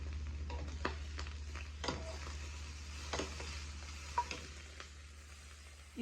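Chilaquiles being stirred in a pan with enchilada sauce and three eggs: a few soft scrapes and clicks of the spoon over a low, steady sizzle, close and fairly quiet, with no one talking.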